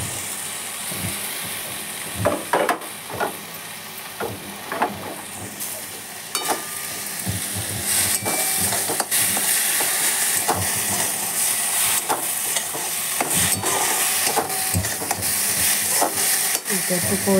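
Banana flower sautéing in a pan with a paste of ginger, chilli, cumin, salt, turmeric and tomato, a loud continuous sizzle and hiss broken by scraping, clattering stirs throughout.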